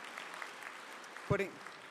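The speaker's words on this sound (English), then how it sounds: "Give him a round of applause" Faint applause from an audience at the 2009 Game Developers Conference IGF indie awards ceremony, a steady distant patter with a brief louder bump near the end.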